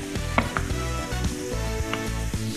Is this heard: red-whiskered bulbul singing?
no